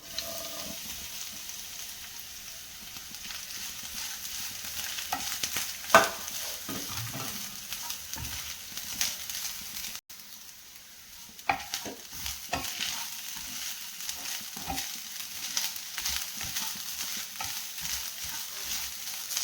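Grated coconut and sesame seeds fry in hot ghee in a pan, a soft continuous sizzle broken by repeated scraping and stirring strokes, close and fairly quiet, with no talk.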